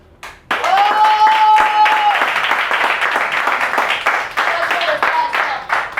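Loud, dense applause from a comedy-show audience fills the room for several seconds, steady clapping with scattered cheers and a few voices rising over it.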